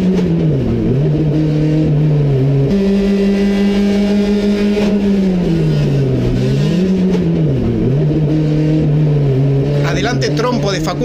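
Onboard race car engine in Leo Fuente's car at a touring car race, a loud continuous drone revving up and down through gear changes, with a brief shift near the start and a throttle dip later.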